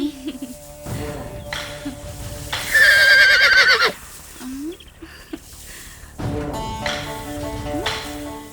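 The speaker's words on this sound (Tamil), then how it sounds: "உன் குதிரை காத்தாலே களத்துக்கு வந்து கணிக்குது" A horse lets out a loud, shrill whinny lasting about a second, rising and shaking in pitch, amid a busy mix of voices and scattered knocks and clatter.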